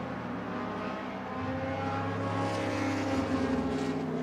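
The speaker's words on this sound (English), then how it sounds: "Quite different engine note from the big McLaren, rumbling along" A big McLaren sports-prototype at an HSCC Thundersports classic race rumbles past, a low, steady engine drone with a slight swell near the end, heard at a distance with a faint tonal whine.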